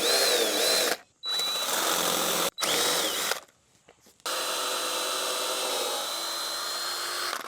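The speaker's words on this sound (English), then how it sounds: "I'll probably drill a flat spot down here so this head isn't just trying to countersink by itself." A power drill bores into wood while framing deck stairs, boring a flat spot so a screw head can seat into the stringer; the bit whines in loud close bursts separated by short pauses, then one long steady run.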